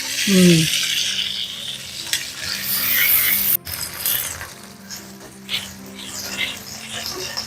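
Sliced garlic, anchovies and cherry tomatoes sautéing in a pan, a bright sizzle with intermittent stirring scrapes and clinks, close up, easing slightly in loudness over several seconds.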